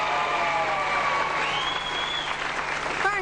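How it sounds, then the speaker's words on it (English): A studio audience applauds a young contestant on a televised talent show. Steady clapping fills the whole moment over a faint musical tone, and a voice is heard briefly at the end. "Give him a clap, sweetheart."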